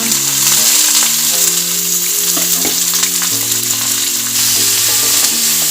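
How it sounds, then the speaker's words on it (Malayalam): Chopped onion, ginger, garlic and green chili fry loudly in hot oil, a dense, continuous sizzle heard close up, with occasional stirring clatter and a steady musical tone playing underneath. "നമ്മൾ അരിഞ്ഞു വെച്ചിരിക്കുന്ന സവോള, ഇഞ്ചി, വെളുത്തുള്ളി, പച്ചമുളക്, ഇത്ര സാധനങ്ങൾ നമുക്ക് ഇന്നത്തെ തട്ടാം"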